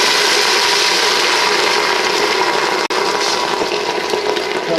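About 200 ml of red wine is poured into a hot pan of lamb shanks with herbs, producing a loud, continuous close hiss and sizzle of liquid hitting the pan, unbroken except for one brief dropout.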